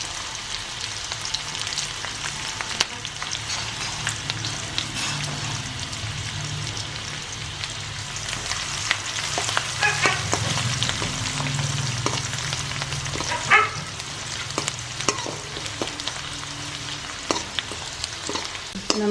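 Curry leaves frying in hot oil with ginger and garlic for a papaya pickle, a dense crackling sizzle with scattered pops and occasional stirring clinks, steady and close throughout.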